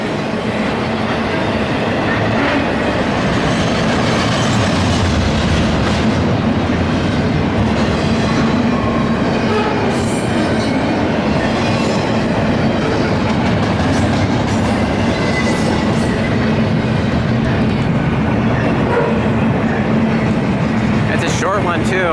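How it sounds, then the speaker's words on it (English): A westbound BNSF intermodal freight train rolls past on a curving line at Route 66 in Flagstaff, with loud, close continuous rumble and clickety-clack of wheels, faint squeals near the end, and a voice talking over it. "Westbound Burlington Northern Santa Fe intermodal train at Route 66 in Flagstaff."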